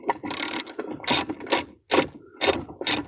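A ratchet loosens bolts on a DR trimmer mower in quick bursts of sharp clicking, about six close strokes separated by brief pauses.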